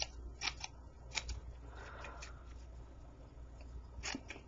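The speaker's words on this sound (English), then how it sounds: "you're going to take your scissor and you're going to trim down each" Scissors snip and trim paper daisy petals with several short, crisp cuts scattered across a quiet room, close and soft, no talking.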